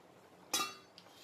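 A lid is lifted off a pot of simmering chickpea-dumpling curry (kadalai paruppu urundai kulambu), giving a single bright metallic clink with a short ringing decay, then a faint second tap in a quiet kitchen.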